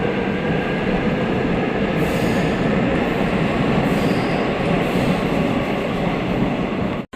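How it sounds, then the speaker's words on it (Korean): Seoul Subway Line 2 train pulling into Wangsimni station, a loud steady rumble of wheels on rail with carriage noise throughout, ending abruptly. "2호선 왕십리역에 도착했습니다."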